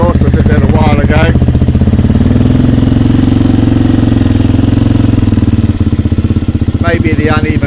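A Suzuki DRZ250 dirt bike with a Mikuni carburetor idles steadily and loudly up close, a continuous throbbing thump with a slightly uneven rhythm, while someone talks over it at the start and end.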